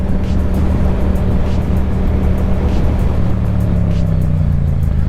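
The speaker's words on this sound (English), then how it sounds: "The sound of this bike will have everybody's heads turning in your direction" Yamaha MT-07 motorcycle engine running steadily nearby, a continuous low rumble with a slowly falling pitch, mixed with strong wind noise and no talking.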